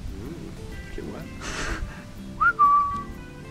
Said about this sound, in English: That's a crisp, clean whistle.